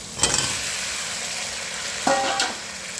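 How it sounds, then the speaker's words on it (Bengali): Potatoes and taro being stir-fried in a pan for a Bengali curry give off a steady close sizzle, with a couple of louder stirring scrapes. "এরপর আমি আলু আর গাঁটি কচুগুলো দিয়ে ভালো করে কষিয়ে নেবো"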